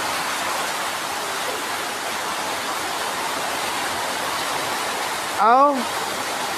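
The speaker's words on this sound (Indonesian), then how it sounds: "Mantap hujannya ini, mantap." Heavy rain pouring steadily, a dense even hiss throughout, with a single short voiced exclamation near the end.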